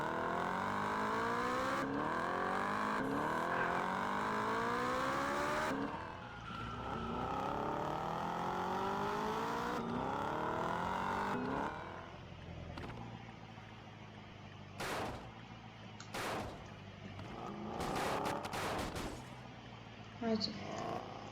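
A newly bought motor runs at speed with rising and falling pitch sweeps as it accelerates through repeated gear-like climbs, loud and close, later giving way to choppier bursts and a voice talking over it.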